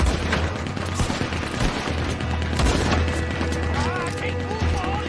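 A Gatling gun rattles from a veranda in Red Dead Redemption 2, a dense continuous fusillade with booms mixed in, with shouting voices over it.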